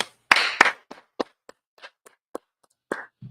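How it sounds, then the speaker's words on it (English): A class audience gives a short round of applause. Two loud, close claps open it, then sparse, scattered single handclaps trail off unevenly over a few seconds. "Let's clap it up."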